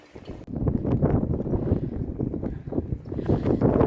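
Wind gusting across the coast at Saint-Lunaire in Brittany, a loud, continuous roaring rush that buffets the microphone and swells and dips throughout.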